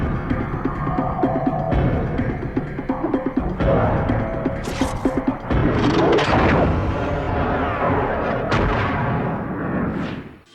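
Gunfire rings out in a South Indian action movie dubbed in Hindi: several heavy, booming shots land over a dense, rumbling dramatic score that stays loud throughout, with sharper cracks near the middle and end.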